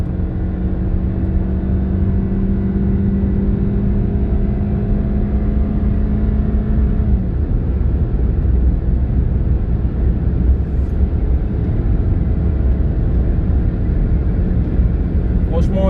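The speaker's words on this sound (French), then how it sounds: "vous entendez cette belle sonorité, la sonorité du moteur atmosphérique qui n'est pas étouffé par des turbos" A Hyundai Sonata Limited with a naturally aspirated, non-turbo engine, driven on the road in Abidjan, revs with a steady rising drone that fades out midway through. Continuous road and wind noise carries on underneath.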